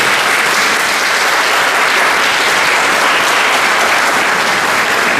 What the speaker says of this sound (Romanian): Haideți să aplaudăm și pe ea.